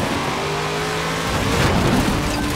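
A car in Forza Horizon 4 accelerates hard toward a jump, engine roaring and revving up close and loud, the pitch climbing near the end of the short burst.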